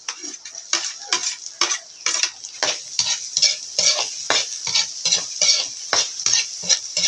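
Meat and onion sautéing in a pan while cooking Bicol-style dinuguan, with repeated bursts of stirring and utensil scrapes over a steady sizzle, close and fairly loud, no talk.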